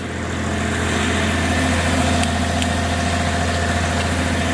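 An air compressor runs steadily, set to about 75 PSI, to blow out a commercial property's sprinkler system. A constant mechanical hum and drone holds close and loud, with no voices over it.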